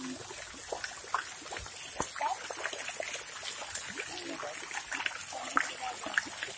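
Water trickles and splashes softly in small irregular drips, with a voice speaking faintly over it.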